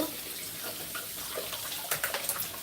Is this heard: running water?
yes